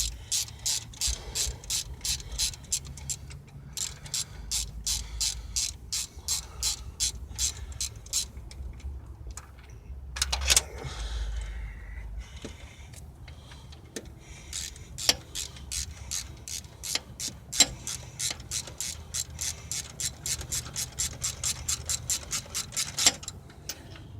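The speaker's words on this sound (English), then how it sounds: "Normally they come out with the wrench." Ratchet wrench clicking while turning a fastener on a car engine during valve cover gasket work: steady, rapid runs of close metallic ticks, pausing briefly midway and then resuming at a similar pace.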